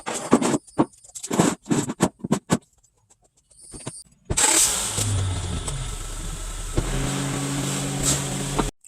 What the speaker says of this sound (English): So first step here, we're going to get the car on some ramps.